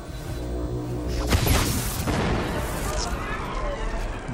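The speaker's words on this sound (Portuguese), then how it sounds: "Eles estão largando granada aqui." A grenade goes off in the video game Predator: Hunting Grounds, giving one loud, close booming burst around the middle of the clip, with dense game noise before and after it.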